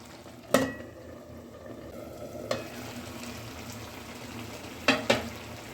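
A spatula stirs spinach with small fish in a pan over a low steady sizzle, with a few sharp clanks of utensil against the pan spaced irregularly, two in quick succession near the end.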